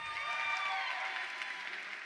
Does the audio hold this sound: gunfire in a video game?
no